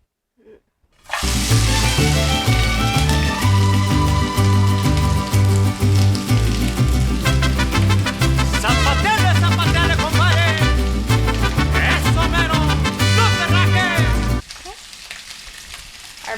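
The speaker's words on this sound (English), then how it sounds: "we're going to toss all of our veggies into our pan" Vegetables hit a smoking-hot oiled pan for a quesadilla and sizzle loudly and steadily, with a dense frying hiss that continues for several seconds before dropping off near the end.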